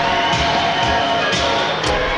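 A hockey arena crowd cheers loudly and steadily after a Riverkings home playoff game, a dense roar of voices and shouts filling the whole stretch without a break.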